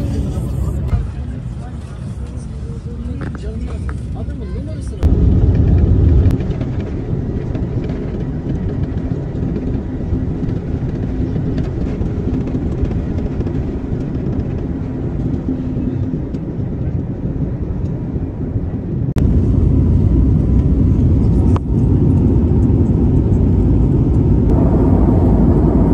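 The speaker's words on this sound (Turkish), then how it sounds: "Ve uçaktayız." Airplane cabin during a flight, a loud constant engine drone and low rumble with faint voices talking underneath.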